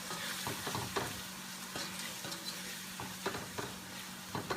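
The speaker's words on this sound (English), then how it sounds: "I like to saute this in. Let it saute in" Spinach sautéing in a pan gives a steady close sizzle, broken by repeated soft scraping strokes of a utensil stirring the leaves, with no voices.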